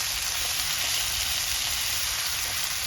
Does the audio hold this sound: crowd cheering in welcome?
no